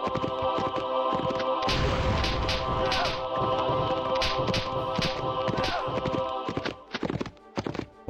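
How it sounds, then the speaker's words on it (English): Rapid clip-clopping horse hooves from the video game Disposable Heroes, a dense run of sharp repeated hoof strikes over a steady droning game hum, with a few whinnies and brief thuds near the end. "Who let the horses in?"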